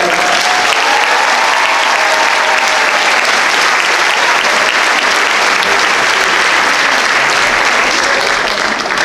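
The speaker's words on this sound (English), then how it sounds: "Let's give them all a great round of applause." Sustained, loud applause from a concert audience filling a large high school auditorium at a benefit concert, dense and steady throughout with no break.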